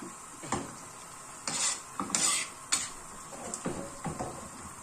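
Liver cooking in a pan with lemon juice is stirred with a utensil, giving several separate scraping and clinking strokes against the pan over a faint steady background, with no talking.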